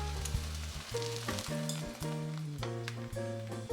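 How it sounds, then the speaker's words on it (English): Eggs spread thin in a pan over low heat give a steady, close sizzle, with a few brief scrapes and taps of a utensil and some tonal hum running underneath. "Spread the eggs and cook over low heat so that they do not burn."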